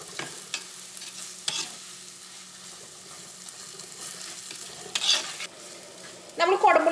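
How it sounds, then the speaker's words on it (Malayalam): Masala powders fry in coconut oil over a medium flame for a Kerala fish curry, a low steady sizzle broken by scraping stirs and a louder burst of stirring near the end. "ഈ മസാലപ്പൊടികളും ഈ എണ്ണയിലിട്ടിട്ട് നമുക്ക് നന്നായിട്ടൊന്ന് മൊരിയിച്ചെടുക്കാം"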